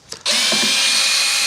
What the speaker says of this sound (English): I find that gives me a much more accurate drill hole